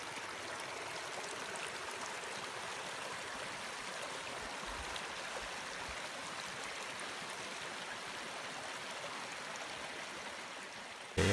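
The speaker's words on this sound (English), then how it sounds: "we came across some interesting springs with water just bubbling out of the ground" Spring water bubbling and gurgling up out of the ground on a hike in Yosemite's backcountry, a steady close trickling wash that runs unbroken throughout with no voices.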